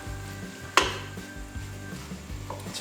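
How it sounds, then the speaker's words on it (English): BBQ chicken chili cooking in a pan, a soft, close sizzle and simmer with one sharp clink of a utensil against the pan. "A little bit of a sizzle in there already."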